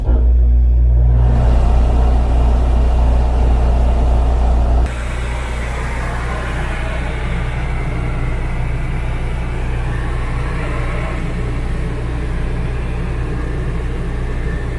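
An RV air conditioner with a newly replaced Dometic thermostat runs in cooling mode, giving a loud, steady, close-up drone with a deep hum. Its tone drops and shifts abruptly a few seconds in, then holds constant.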